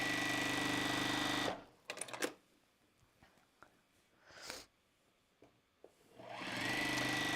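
A home sewing machine stitching a line on scrap fabric with no thread in the needle: a loud steady whir that stops abruptly, then scattered clicks and short mechanical bursts before the motor hums back up near the end.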